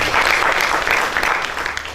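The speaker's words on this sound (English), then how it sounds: "Let's clap our hands." Audience at a national science innovation projects competition applauding, a dense, steady burst of clapping from a crowd that tapers slightly toward the end.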